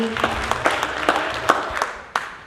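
Applause from a church congregation in a cathedral in Kakamega during a Sunday music service, several uneven bursts of clapping rising and fading over a murmur of voices.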